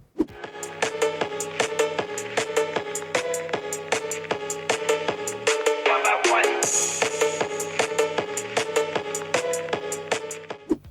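Music plays steadily from a Blackview BV6200 smartphone loudspeaker, a rhythmic beat with tonal chords, moderately loud and continuous, no voices.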